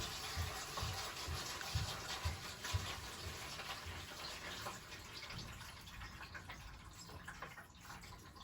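Water flows in a steady stream while a gas boiler heating system is purged, a continuous gushing rush with a few louder splashes early on, fairly faint and unbroken by talk.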